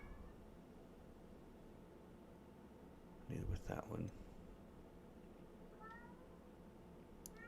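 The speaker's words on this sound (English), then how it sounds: "I don't know if you guys can hear my cat" A pet cat meows indoors, a short, fairly loud burst in the middle of otherwise quiet room tone, with someone talking quietly around it.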